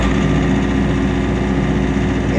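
A Burning Man generator engine runs steadily at high speed, a loud continuous hum with a dense low rumble that holds even throughout, with no talking.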